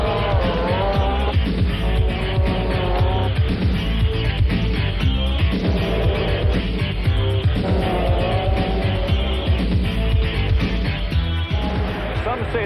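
Supercharged hydroplane speedboats race, their engines producing a continuous, loud, dense roar that stays at full intensity from start to finish.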